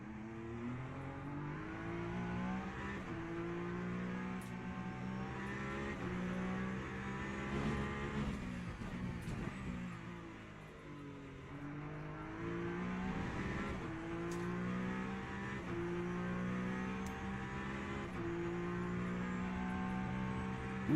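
A Peugeot race car engine in a racing video game on the Road Atlanta or Interlagos circuit, revving steadily with repeated shifts up and down through the gears, loud and continuous.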